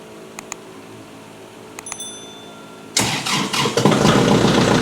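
A diesel engine on a snow plowing rig cranks and fires at about three seconds on a 26-degree morning after the glow plugs warm, then settles into a loud, rough idle. A few quiet clicks and a brief chime come before it starts.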